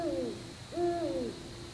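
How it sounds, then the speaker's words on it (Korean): An owl hoots twice at night at a wild camping spot in the woods after rain, each call a clear drawn-out hoot with a short pause between, fairly close and alone over quiet background. "부엉이 소리가 나네."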